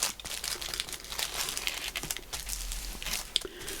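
Paper crinkling and crumpling as the edge of a vintage sewing journal page is folded in, a steady close rustle with small crisp crackles and no talk over it.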